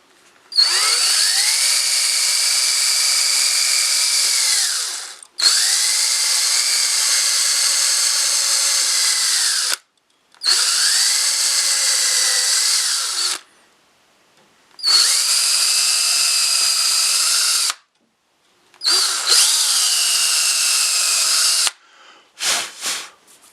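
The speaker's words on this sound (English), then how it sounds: "So I set this up, we'll drill these out." A power drill whirs through wood in five long bursts separated by short pauses while drilling screw holes for a storage cabinet, loud and close, ending with a few quick stutters.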